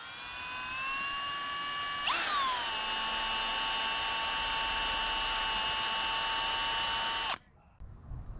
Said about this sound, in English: I'm just going to drill out the holes